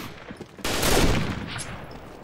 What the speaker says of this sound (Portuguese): Os 2 primeiros tiros do dia a gente acertou